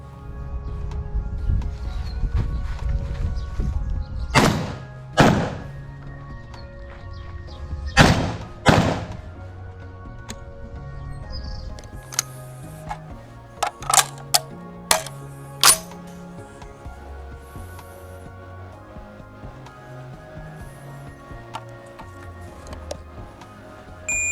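A Derya MK12 magazine-fed shotgun fires five sharp, loud shots in uneven pairs, followed by quieter clicks and handling taps.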